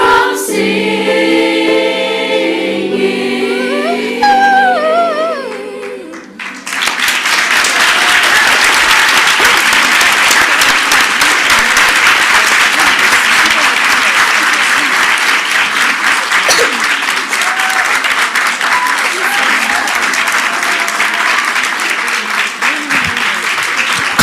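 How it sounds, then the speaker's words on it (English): An audience at a school board meeting breaks into loud, sustained applause for singers right after their song ends, a dense wash of clapping that keeps going for many seconds. "let's clap it up for them"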